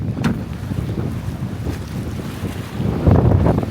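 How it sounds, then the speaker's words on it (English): Strong wind buffets the microphone beside Bear Lake, a roaring, steady gusty rush with lapping water underneath, swelling louder near the end; no one speaks. "It's very windy, don't even know if you can hear me."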